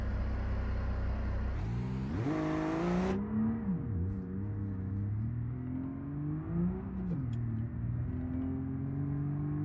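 A car in the BeamNG.drive driving game revs and accelerates hard at first, then settles into a steady mid-pitched engine drone with smooth rises and dips in revs as it keeps driving, loud and close with no voices.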